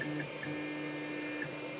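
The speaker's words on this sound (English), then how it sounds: "What I'm printing is a part with a thin cross section that builds vertically on the board" A Da Vinci 3D printer building a tall, thin part vertically on its bed: a steady motor whine with tonal stepper hums, shifting pitch in short moves, close and alone.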